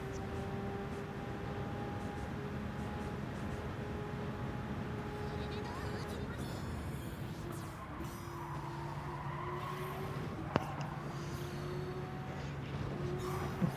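Tires squeal and skid in a Gran Turismo 7 race at the 24 Heures du Mans circuit, a sustained tonal whine over steady engine drone, while a person talks over it and a brief sharp click cuts in near the end.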